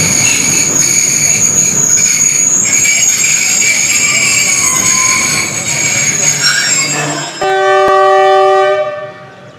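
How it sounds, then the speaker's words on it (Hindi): The Awami Express arrives at Golra Junction, a loud rumble of rolling cars with high, sustained wheel squeal, then a sharp clank and a brief horn-like tonal blast near the end. "अब अवामी एक्सप्रेस गोल्डा जंक्शन पर अप्रोच कर रही है"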